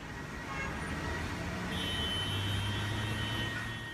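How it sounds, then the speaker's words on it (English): Busy Lagos city traffic forms a faint, steady roadway wash, with thin tonal car horns sounding faintly in the distance. "Cars honking, roads busy, the regular feature of the city of Lagos."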